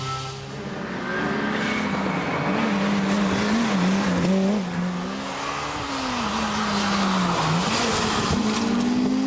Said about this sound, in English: One of only two cars in N3 for up to 2 litre production spec cars, Richard Butler enjoyed a healthy lead